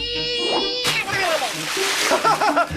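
A child's cannonball jump into a pool lands with a sudden sharp splash followed by sloshing water, with children's voices chattering and shouting over it.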